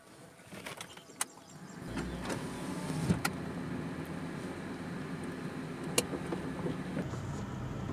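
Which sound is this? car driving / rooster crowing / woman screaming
car driving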